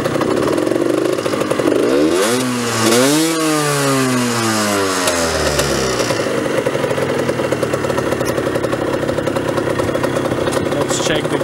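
A 2007 Rieju RS2 50cc motorcycle runs loud and close, its small engine winding up in two rising revs and falling back before settling into a raspy, steady run.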